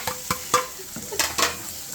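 Onions fry in homemade chili oil in a pan, a short burst of sizzle with several sharp spatula scrapes and knocks against the pan, close and loud, no talk.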